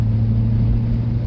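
A 2003 Honda Accord engine with a Yonaka aftermarket exhaust hums at a steady, loud drone, a smooth low tone with no rasp over the brief moment, no voices.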